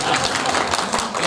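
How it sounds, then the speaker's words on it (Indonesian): A classroom audience claps briefly in a dense, even burst, close and fairly loud, with voices mixed in. "Tepuk tangan, baik."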